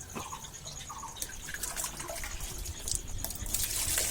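Water trickles and drips as it is poured into a small container, a steady light splashing that grows slightly fuller toward the end, heard up close with no talking.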